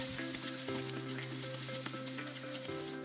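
Tocino, cured pork, frying in oil gives a steady close sizzle with scattered crackles and pops, set over a constant low hum.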